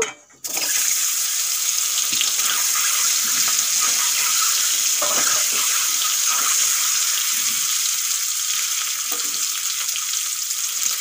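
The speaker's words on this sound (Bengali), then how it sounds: "এখন ডিমগুলো আমি ভেজে নেব।" Eggs fry in hot oil with a loud, continuous close-up sizzle that starts after a brief moment of quiet and holds steady, with occasional light stirring or spatter bursts and no talking.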